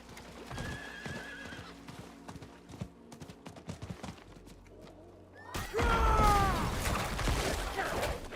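Horse neighing with clip-clopping hooves during a dismount in the video game Diablo IV, hoofbeats running steadily before a loud whinny bursts in near the end.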